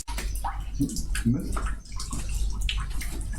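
Water pouring and splashing during the washing of a deceased body in a ritual washing, a steady wet stream with splashes running throughout while a person speaks over it.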